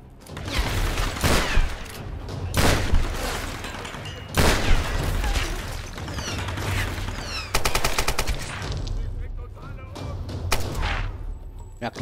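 Enemy gunfire in the video game Tomb Raider: repeated loud bursts and single shots, including a rapid automatic rattle, crack through a busy game soundscape for twelve seconds.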